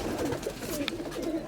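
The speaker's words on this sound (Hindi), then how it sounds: "बहुत यूनिक कबूतर हैं" Pigeons of an unusual, rarely seen breed coo softly and continuously at close range, a low rolling murmur with no voices over it.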